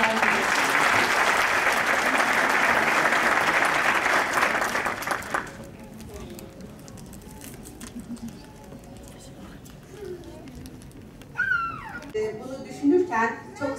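Audience applause at a religious affairs conference in Mardin welcoming someone speaker to the stage, a dense steady clapping that fills the first five seconds, then fades into quiet room noise with scattered bird chirps near the end.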